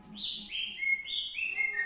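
An oriental magpie-robin gives a quick run of bright, clear chirps and whistled notes close by, loud and unaccompanied by talk.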